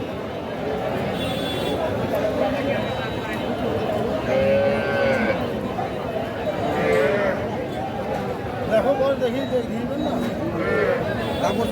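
Cows moo at a busy cattle market where cows and calves are bought and sold, several lowing calls rising over constant crowd chatter and nearby talking.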